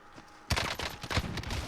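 Gunfire erupts in a Call of Duty match after a quiet moment, a loud opening shot followed by a rapid string of close, punchy blasts.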